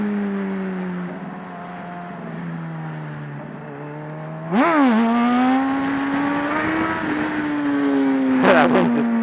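A motorcycle's engine tone climbs in first gear, then surges sharply near the midpoint as it lifts for a wheelie, holding a strong rising drone with wind buffeting.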